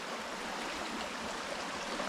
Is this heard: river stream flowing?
yes